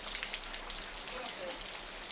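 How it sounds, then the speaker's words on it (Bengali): Heavy rain pours steadily on streets in Dhaka, a dense, even patter and wash of drops that holds at a moderate level throughout the short stretch. "আজকের এই ছুটির দিনে বৃষ্টি হয়, অনেকেই এই বৃষ্টিটি উপভোগ করছেন"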